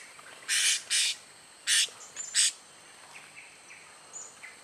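Several loud, shrill squawks from a blue-crowned hanging parrot in quick bursts, followed by fainter chirps against a quiet outdoor background.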